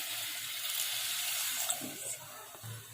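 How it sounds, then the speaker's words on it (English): Half a glass of water pours steadily into a pot of mutton curry, a continuous close splashing trickle at moderate volume. "Half glass of water."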